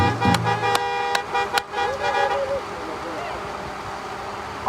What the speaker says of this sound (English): Honk your horns, clap your hands